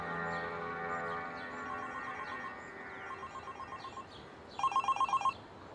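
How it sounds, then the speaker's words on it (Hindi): A telephone rings with a continuous warbling electronic tone, then shifts into a pulsed ringtone and finally a brighter, louder trill of rapid repeated bursts near the end, over a faint background. "शंकर फोन कर रहा है सर"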